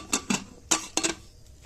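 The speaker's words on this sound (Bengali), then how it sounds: "আমি চলে এসেছি এটা খোলার জন্য প্রেসার কুকারের ঢাকনাটা" A pressure cooker lid is handled and opened after cooling, during puffed-rice roasting, giving four sharp metallic clicks and clanks close by, with a short gap between pairs and no talk.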